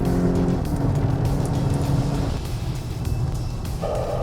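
A 2022 Volkswagen Golf GTI R-Line accelerates hard on the Sepang circuit, its engine note loud and close, climbing through the revs with a gear change partway and a rising tone near the end.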